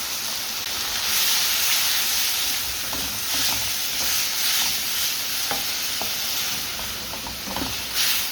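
A balti curry spits and hisses loudly in a hot pan, a dense steady sizzle broken by occasional metallic stirring clinks, with no talking.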